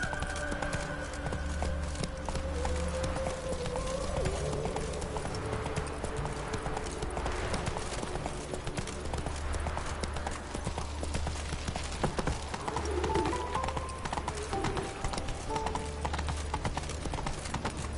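Horse hooves clip-clop at a steady galloping rhythm in The Witcher 3 on PS4, close and continuous for the whole stretch, with a rider's brief calls over it.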